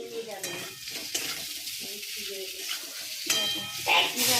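Food frying and being stirred in a pan in a home kitchen, where pumpkin, potato and pointed gourd are being fried: a steady close sizzle with intermittent spoon scrapes, with a faint voice at times.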